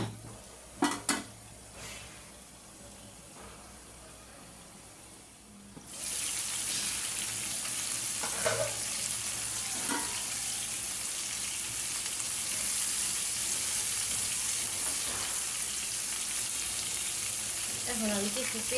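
Fish fries in a covered pan. A few clanks of the pan and lid come first, then a loud, continuous close sizzle bursts in and holds steady, with occasional faint knocks underneath.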